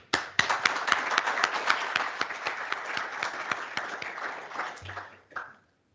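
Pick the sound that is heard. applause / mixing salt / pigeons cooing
applause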